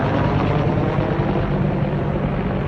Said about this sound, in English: That's a military helicopter.